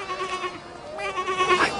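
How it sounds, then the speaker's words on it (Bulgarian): A sheep bleats in a wavering, drawn-out call, repeated a couple of times at close range with faint background noise. "Я каква овца."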